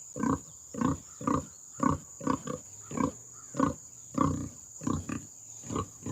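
A pig in a pen gives a series of about a dozen loud, close grunts at a steady rhythm, with a constant high-pitched hum underneath and no talking.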